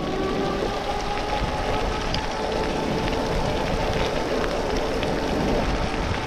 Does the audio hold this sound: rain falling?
yes